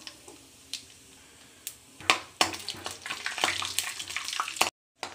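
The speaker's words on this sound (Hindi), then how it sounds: "अच्छा अच्छा हम लोग सिंगदाना को भून लेंगे।" Peanuts roast in a pan with mustard seeds and cumin, giving a frying sizzle broken by sharp pops and crackles. Stirring scrapes come in irregular bursts, then a short silence near the end.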